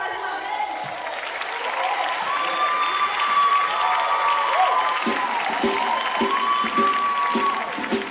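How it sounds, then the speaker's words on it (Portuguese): A church congregation applauds during a worship service, a steady wash of clapping that fills the room, with sustained singing or instrumental tones underneath and rhythmic accents toward the end. "Aplauda o Senhor mais uma"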